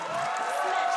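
Esports arena crowd at a Mobile Legends match cheers and applauds in a steady, dense wash of noise that fills the whole moment without pause.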